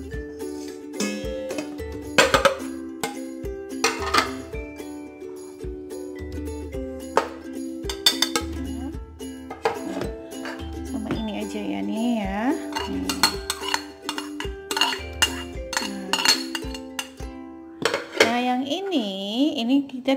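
A spoon or utensil clinks and scrapes repeatedly against a bowl while flour, tapioca, sliced scallion and grated garlic are mixed together, in a steady rhythm of small taps under a voice and light background music.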